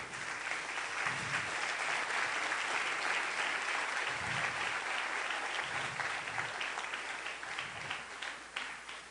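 A church congregation applauds during a Sunday service, a sustained wash of many hands clapping at moderate distance that holds steady and eases slightly toward the end.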